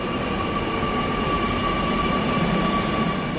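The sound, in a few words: Kochi Metro train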